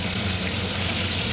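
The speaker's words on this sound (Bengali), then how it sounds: "কড়াইয়ে বসিয়ে দিয়েছি, আর তেল এবং মাছ দেওয়া শুরু করে দিয়েছি" Prawns frying in hot oil in a wok, a loud dense steady sizzle that fills the short moment without pause.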